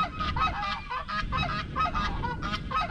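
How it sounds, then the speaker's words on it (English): Geese honk loudly and repeatedly, several birds calling over one another in a close, noisy chorus with no pause. "We got geese."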